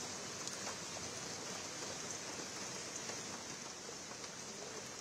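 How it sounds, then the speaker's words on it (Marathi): Heavy monsoon rain pours over the CSMT area of Mumbai, a steady, even hiss of downpour heard on its own at moderate distance. "त्या ठिकाणी आता पावसानं चांगलाच जोर धरलेला आहे"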